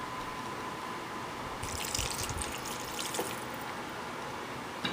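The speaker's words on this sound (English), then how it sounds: "I am going to add just a tad bit of water in there" Cold water trickles and splashes as it is poured into a pot of masoor dal (lentil curry). The pour is soft and fairly faint, with a brief burst of livelier splashing partway through, and no voices are heard.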